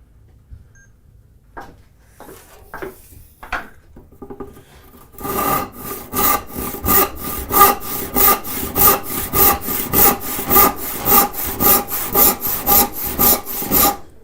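Walnut being cut with a hand saw in a workshop: a steady run of rhythmic back-and-forth strokes, close and loud, preceded by a few scattered knocks and rasps before the sawing settles into a regular pace.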